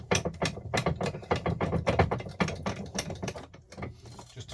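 A part taken from a paper shredder, apparently copper, being clamped and squeezed in a vise, giving loud, close clicking and ratcheting bursts in a quick irregular rhythm throughout.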